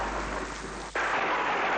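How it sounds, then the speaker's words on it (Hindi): Heavy rain pours steadily in a TV drama scene, a dense close hiss with a brief rumbling thunder burst partway through and no talking. "बहुत तेज बारिश हो रही है"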